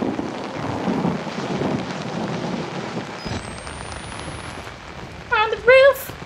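Rain and thunder in the horror video game Outlast: a dense, rumbling wash of rainfall and thunder fills the first half, then thins to a quieter hiss, with a few brief tonal sounds near the end.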